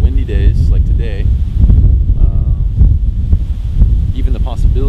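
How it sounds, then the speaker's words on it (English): Strong wind buffets the microphone with a constant low roar while people talk over it. "when we have windy days like today"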